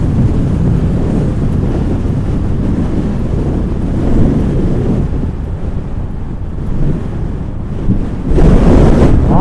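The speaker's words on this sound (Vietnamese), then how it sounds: "cô chú chạy mà gió mà nó thổi vù vô cái nón bảo hiểm mình tạt luôn" Strong coastal wind roars steadily against a motorbike helmet on a seaside mountain pass at Cà Ná, Ninh Thuận, a loud, continuous, buffeting rumble that surges even harder near the end.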